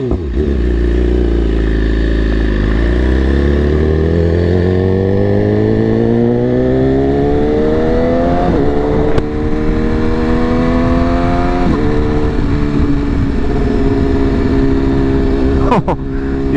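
Motorcycle engine revved hard inside a tunnel, rising and falling pitch with repeated throttle blips and downshifts, very loud and reverberant throughout with no talking.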